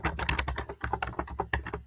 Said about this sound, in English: Is someone typing?